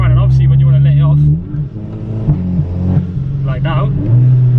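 A Seat Leon Cupra with a loud exhaust revs, its deep engine drone rising and falling through several blips, close and strong, with someone talking over it.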